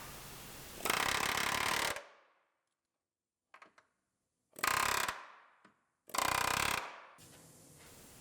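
An air hammer with a hammer bit pounds car body panels on a rebuilt Terrain in three loud, close bursts of rapid metallic rattling, separated by silence and a few light clanks, with a softer run at the end.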